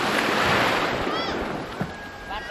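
Broadband rushing wash of a swollen, flooded river carrying debris, loud and steady with wind buffeting the microphone, a few faint bird chirps and a brief thump over the torrent.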